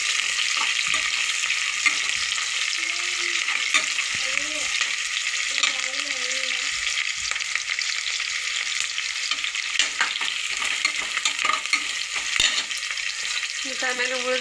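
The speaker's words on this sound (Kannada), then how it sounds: "ಇದು ಎಣ್ಣೆಗೆ ಬೇಯಿಸ್ಬೇಕು ಅಷ್ಟೇ." Green chillies and onions fry in oil for a village-style pulao, sizzling loudly and continuously up close, with occasional clinks of stirring.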